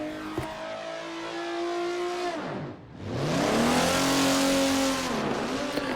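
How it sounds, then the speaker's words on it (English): A drift car's engine revs hard on the Yas Marina track, a loud high-pitched wail that drops away briefly mid-way, then surges back with sweeping rising and falling engine tones and tire noise. "Is this a real drift run, or did we pull one of the spectators to drive the car?"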